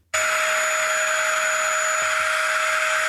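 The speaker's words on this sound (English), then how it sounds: "The answer was vacuum." A vacuum cleaner motor starts abruptly and runs at a steady, loud, close whine with a constant high tone and airy rush, heard alone without voices.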